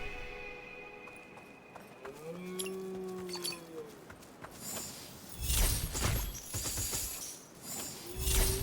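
Cows in the Dungeons of Hinterberg game give a couple of low, drawn-out moos over a quiet outdoor ambience, then heavier footsteps and shuffling noises build up, followed by another low call near the end.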